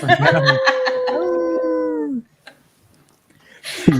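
A person imitates a howl with a rising, wavering, dog-like voice that stretches for about two seconds and then breaks off into quiet.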